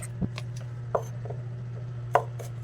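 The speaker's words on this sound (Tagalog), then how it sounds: "So slice tayo ng onion at garlic" A knife slices onion and garlic on a cutting board, giving a few sparse, separate chops over a steady low hum.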